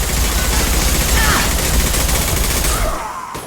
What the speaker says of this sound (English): Shotgun! Time to die.